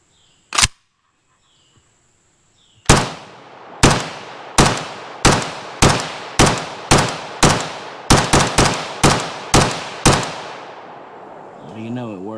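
An AK74 rifle fires over a dozen close, sharp, loud semi-automatic shots from a shiny plum polymer magazine, each report cracking and then ringing out, with a single earlier shot or click after a pause.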